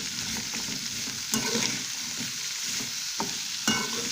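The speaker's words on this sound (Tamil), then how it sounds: "நல்லா வதக்கி விட்டுக்கலாம்." Garlic and onions sauté in a pan for a Tamil garlic kuzhambu, with a steady close sizzle broken by a few sharp scrapes and clinks of a stirring spoon.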